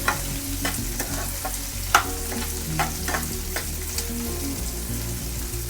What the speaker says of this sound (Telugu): ఒక 2 నిమిషాలు వేయించాం